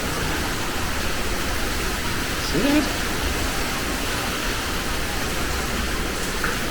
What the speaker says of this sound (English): There's a lot of water coming through.